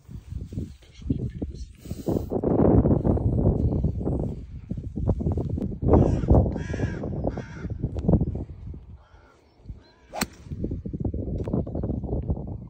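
A crow caws repeatedly on an outdoor golf course, harsh calls coming in bursts over gusty wind, with people talking in the background.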